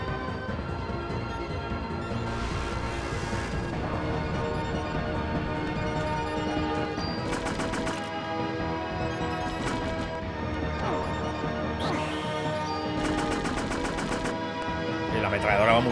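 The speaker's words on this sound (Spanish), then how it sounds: "Parece que la ametralladora va bastante mejor" Machine gun bursts from the PS1 game Parasite Eve, several short rapid volleys between roughly 7 and 14 seconds, sitting under a continuous game music score and someone talking over it.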